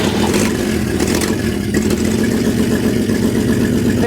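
A 1952 GMC truck engine runs for the first time in 50 years, a loud, rough, steady rumble with a slight rev change partway through, close by and without talk.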